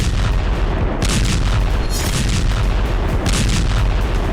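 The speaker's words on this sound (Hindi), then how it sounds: "धमाके से कर्च ब्रिज और कई मील दूर तक इलाका दहल उठा।" Loud, dense blasts from a drone attack on the Kerch (Crimea) bridge, a sustained roar of booming, crackling detonations with rumbling low end and sharper bursts near one and two seconds, no voices.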